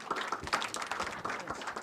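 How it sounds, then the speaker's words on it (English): A conference audience at a cloud computing immersion day gives a round of applause, a dense, fairly soft patter of many hands clapping evenly throughout. "please give a big round of applause"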